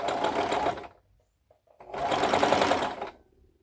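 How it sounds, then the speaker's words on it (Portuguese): A sewing machine stitches a seam on a fitted tube dress beside the overlocked edge. It runs in two steady whirring bursts, close and moderately loud, separated by a brief quiet pause with small handling clicks. "Aí vocês podem costurar do lado da overlock ou em cima do overlock"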